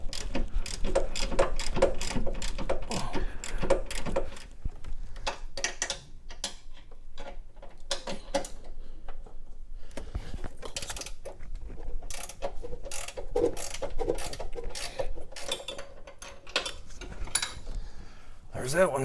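Ratchet clicking rapidly in repeated bursts as Loctite-coated motor mount bolts are cracked loose on a 2011-2019 Ford Explorer, with metallic pawl ticks, brief pauses and some clanking close by.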